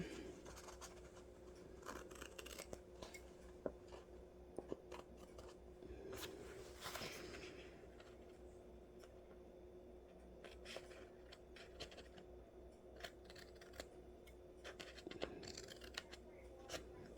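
Scissors snip through paper while a media journal spread is trimmed, a run of short crisp cuts and rustles close by, steady and fairly quiet with no talking.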